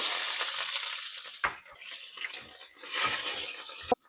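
Garlic and green chillies hit hot oil in a pan, a bright crackling sizzle that fades and resurges with a few sharp spatters and a clink of the spoon near the end.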